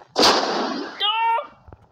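A single cannon shot in a game aboard a boat, a sharp loud blast that fades into a short rumbling tail, followed by a brief tonal sound.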